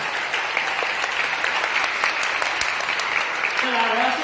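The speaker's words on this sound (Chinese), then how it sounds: "可以求爸爸站起来一下，可以给他一点掌声吗？" Wedding guests give a warm round of applause for the groom's father, a dense, steady clapping throughout, with a brief voice near the end.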